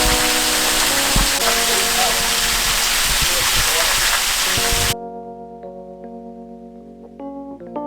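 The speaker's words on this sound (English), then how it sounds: "so that was the waterfall" Tall waterfall at Hemmed-In Hollow on the Buffalo National River in the Ozarks, a loud steady roar of falling water that cuts off abruptly partway through, leaving a quiet stretch afterward.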